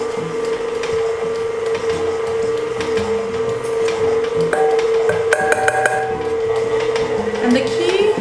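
An electric mixer on low speed works flour into oatmeal raisin cookie dough, a steady motor hum with the beaters clicking and knocking against the bowl, growing busier toward the end.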